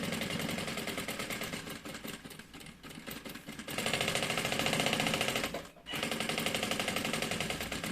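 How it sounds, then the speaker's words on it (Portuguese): A sewing machine stitches along the edge of a bag lining, running in steady motor-driven bursts with a brief pause near the end before it resumes, loud and close. "É só costurar bem na beiradinha"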